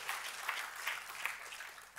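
Brief, faint clapping from a church congregation, a soft continuous patter of hands heard at a distance for a couple of seconds.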